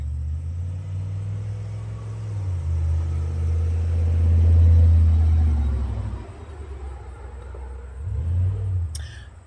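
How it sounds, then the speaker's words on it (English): A truck rumbles past a porch nearby, its low engine drone swelling to a peak and fading, then another brief surge near the end. "we wanted to let that truck go by"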